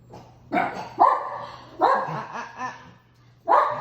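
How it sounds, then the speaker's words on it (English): Several dogs bark in sharp bursts, four loud close volleys with a pause between each, during an indoor dirty-pour canvas painting session with a steady low hum underneath. "If they start to bark, I'll pause if they get too bad."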